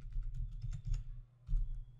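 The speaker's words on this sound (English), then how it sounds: "press Ctrl F on keyboard," Keystrokes on a computer keyboard during structural modelling software work, a quick run of close, irregular clicks, a brief pause, then a few more taps, with no talking.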